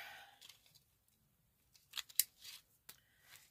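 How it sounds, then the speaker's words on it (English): Scissors snip through a pipe cleaner during a lemon craft project, a few quiet close cuts in a brief cluster after near silence. "I'm going to cut the pipe cleaner"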